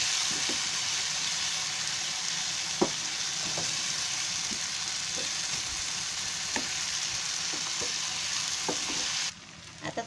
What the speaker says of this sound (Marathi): ते जरा परतून घेते.